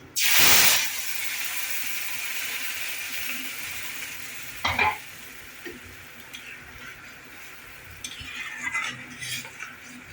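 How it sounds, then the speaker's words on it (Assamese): A spice paste hits a hot pan of oil with cinnamon, cloves and cardamom and bursts into a loud hissing sizzle, which then settles into steady frying punctuated by scraping stirs and utensil clinks; no speech. "এতিয়া মই পেষ্টখিনি ইয়াতে ঢালি দিম।"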